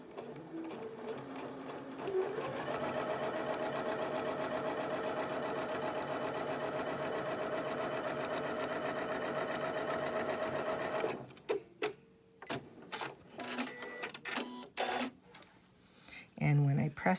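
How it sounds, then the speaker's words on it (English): A sewing machine runs a long continuous whirring stitch for about nine seconds while sewing a quilt block seam into position, followed by short bursts, clicks and handling noises, with a person speaking in the quieter stretches. "I'm going to come up here and go ahead and sew this into position"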